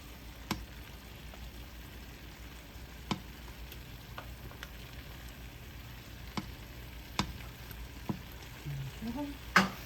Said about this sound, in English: I know you can hear it sizzling.